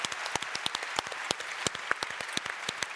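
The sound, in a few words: audience applause for Margaret Hamilton's daughter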